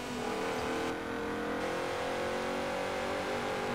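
Volkswagen Beetle engine in the racing game Forza Horizon 4, held at a steady loud drone with a rising tonal whine, continuous revving over nearly four seconds with no talk.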